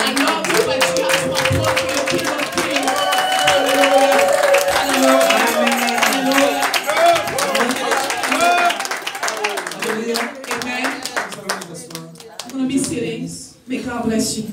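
A church congregation cheering and applauding for the Lord at a service, a dense crowd roar mixed with clapping and raised voices, loud throughout and fading near the end.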